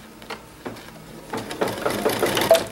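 A sewing machine stitching thread from a bobbin, starting with a few separate mechanical pulses that build into a faster, louder, continuous close-up whirring hum.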